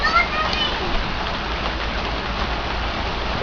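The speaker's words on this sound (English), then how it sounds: "It rained pretty hard out there." Hard rain falls outdoors as a steady, dense hiss of drops splashing on surfaces, heard close and continuous throughout, with children's voices faint in the mix.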